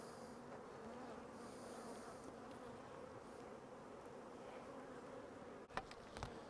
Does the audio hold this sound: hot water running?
no